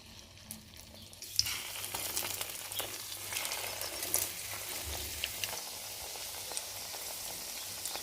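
Potatoes dipped in egg frying in a pan, a steady close sizzle that jumps up suddenly as they go in and then keeps crackling without talk.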